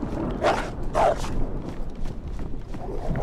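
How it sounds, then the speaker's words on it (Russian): A dog in the survival game DayZ gives two short barks, moderately close, over a steady low background hum. "Это же собака."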